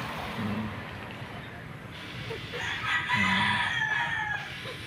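Chickens in a small backyard coop, including a black hen, cluck and crow at moderate distance. A rooster call rises near the middle amid steady background hiss, with someone speaking over part of it.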